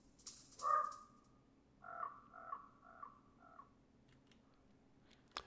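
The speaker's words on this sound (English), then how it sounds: "She hears this bird from behind her," A crow-like bird call, added as a sound effect to a film scene, gives one harsh caw followed by a run of four shorter caws, fairly faint and set against a quiet background.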